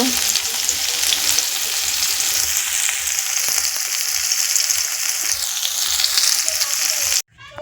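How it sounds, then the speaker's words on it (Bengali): Bitter gourd fries in a pan with a steady, loud sizzle and crackle that runs unbroken for several seconds before cutting off abruptly, with no talking. "এটাকে এদিকে উচ্ছে ভাজা বসিয়ে দিয়েছি"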